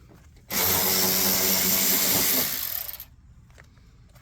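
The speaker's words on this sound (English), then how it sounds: "now we're going to get those 3 bolts out of the bottom of the bumper cover there" Power tool, likely an impact driver or drill, running continuously for about two and a half seconds while removing bolts from the underside of a 2012 Lincoln MKT bumper cover, loud and close, then winding down.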